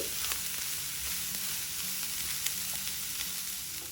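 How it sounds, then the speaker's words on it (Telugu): Cabbage frying under a lid, heard as a soft, steady sizzle with faint crackles, muffled and fairly quiet, and no voices. "మూత పెట్టుకుని క్యాబేజీని 4-5 నిమిషాలు వేగనివ్వాలి."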